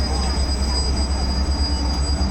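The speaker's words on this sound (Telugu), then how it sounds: "ట్రైన్ కదలబోతుంది." Kanyakumari Express train starting to move, a steady low rumble of the carriages with faint high wheel squeal, continuous and close throughout.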